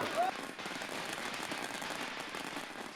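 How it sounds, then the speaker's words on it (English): Firecrackers burst in a dense, continuous crackle at a Chinese wedding celebration, loud and steady for several seconds without pause. "Firecrackers roar as a raucous wedding celebration is about to begin."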